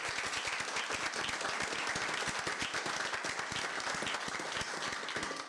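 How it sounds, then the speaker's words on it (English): A round of applause at a board of education meeting, many hands clapping steadily in a room at moderate volume, sustained for several seconds before easing off. "Can we give them a round of applause?"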